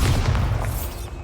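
A Bombarda spell explosion goes off in Hogwarts Legacy, a heavy booming blast with dense low rumble that holds loud for about a second, then thins out.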